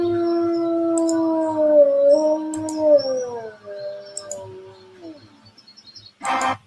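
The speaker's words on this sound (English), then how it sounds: "Cue the happy howls." A wolf gives happy, drawn-out howls, a wavering tone that rises and falls over several seconds before trailing off into short yips, followed by a brief burst of noise.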